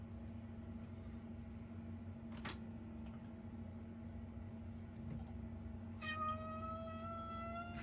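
A house cat lets out a drawn-out, rising meow near the end, heard over a steady hum in a quiet room where someone is painting a rustic barn in yellow ochre.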